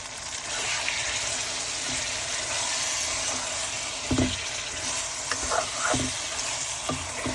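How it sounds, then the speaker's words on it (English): Chicken livers frying in a pan with a steady broadband sizzle, punctuated by a few soft clatters of stirring near the middle and end. "You're gonna throw in your livers."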